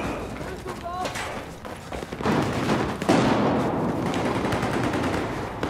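Rapid video-game gunfire from the mobile shooter Gun Master, bursts of shots running steadily through the whole stretch, fairly loud, with a voice talking over parts of it.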